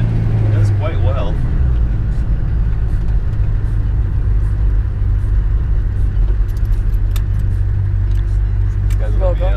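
A turbo diesel Chevrolet Suburban with heavy-duty leaf spring suspension drives along, filling the cabin with a loud, constant low engine and road rumble, with faint rattles and voices underneath.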